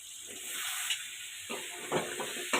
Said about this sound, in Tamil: தக்காளி வெங்காயத்தோட நல்லா மிக்ஸ் ஆகிற அளவுக்கு நல்லா கிண்டி விட்டுக்கிறோங்க